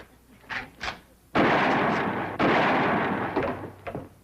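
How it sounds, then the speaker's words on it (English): Gunshots fired at a telephone wire, two loud, booming blasts about a second apart, each ringing out with a long echoing tail, preceded by a couple of faint softer sounds. "It took you 2 shots to get that wire."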